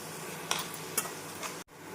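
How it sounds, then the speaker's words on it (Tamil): Onion and tomato sautéing in a pan for chana masala. A spoon scrapes and stirs through the pieces in three separate strokes over a soft, steady sizzle. The sound is close and moderately quiet, then cuts off abruptly. "வெங்காயம் தக்காளி இந்த அளவு நன்றாக வதங்கவும்"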